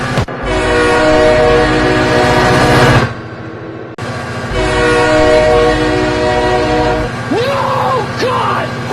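A train rumbles past in a crash simulation video game, with its horn blaring loudly in two long blasts and steady rail clatter underneath, close and dominant, broken by a brief cutoff.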